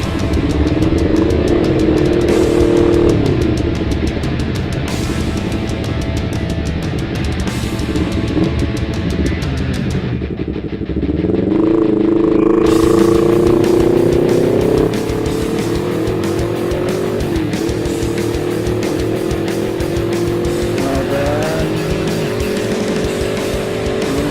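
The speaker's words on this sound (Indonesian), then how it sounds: "Jadi udah mulai liar dikit nih motornya nih di mode sport ini." A 2018 Honda CBR250RR motorcycle ridden in sport mode, its engine loud and close throughout, revving and rising in pitch through the gears with a brief dip as the throttle is eased between pulls.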